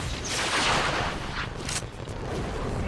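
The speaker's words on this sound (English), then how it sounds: "That's the fucking rocket, boys." A rocket explosion in a video game erupts with a loud, broad blast that trails into crackling rumble, alongside scattered gunfire-like pops.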